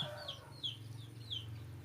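Chickens cluck in short, repeated calls at a moderate distance on a Thai farm, over a steady low hum and faint background noise.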